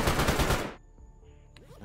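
Gunfire in the video game S.T.A.L.K.E.R. GAMMA, a loud, rapid automatic burst up close that cuts off abruptly, followed by faint rustling.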